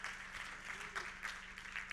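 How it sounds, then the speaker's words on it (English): Faint, distant audience applause at a summit innovation showcase, a soft steady patter of many hands lasting a couple of seconds with low background hum. "And a round of applause for all the startups."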